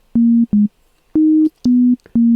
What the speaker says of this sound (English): So the oscillator is what oscillates. That wave is happening again and again very rapidly